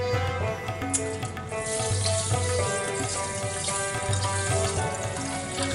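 Rice, cumin seeds, two cardamom pods and cold water poured into a pot, giving a steady, close watery rush that runs unbroken throughout.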